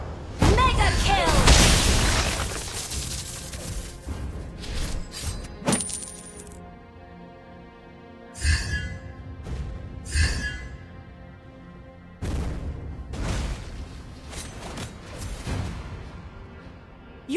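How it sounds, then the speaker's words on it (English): Explosive booms and bursts from a turret being destroyed in the mobile battle game Gatotkaca, loud impacts clustered early and recurring in sharp bursts, with an announcer voice and game effects over them. "Your team destroyed a turret."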